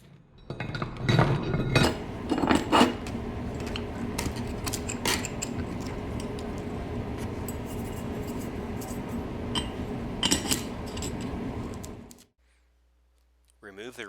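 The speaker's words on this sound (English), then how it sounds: "Clean off your mold for reassembly for your next run." A soil-caked Proctor compaction test mold is scraped and knocked clean, with repeated close metallic clinks and scratchy rubbing. The noise runs continuously, then drops to silence just before the end.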